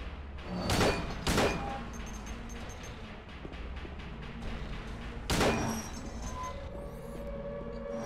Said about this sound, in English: I guess I could take a few shots at him